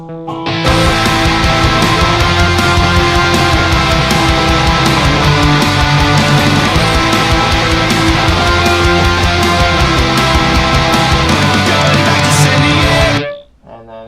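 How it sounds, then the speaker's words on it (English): Loud, dense distorted electric guitar power chords chug continuously for several seconds, then cut off abruptly near the end, from the bridge of a song. "the bridge part 2, where it's the power chorded chords"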